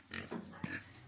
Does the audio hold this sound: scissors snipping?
no